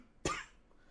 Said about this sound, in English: as you can tell, I still have the cough